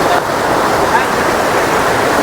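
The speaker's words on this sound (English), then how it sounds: "you can see the waterfall over there" A hidden waterfall deep in the jungle gives off a steady, broad rushing roar, constant and fairly loud, with no distinct breaks or other sounds standing out.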